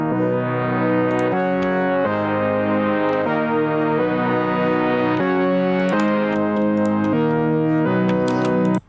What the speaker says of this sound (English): these pads are actually from my Prophet 12